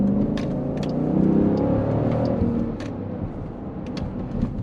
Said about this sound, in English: Let's get another engine note.